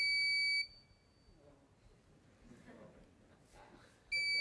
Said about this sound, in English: I'm actually gonna unplug this buzzer because that's gonna be annoying very quickly.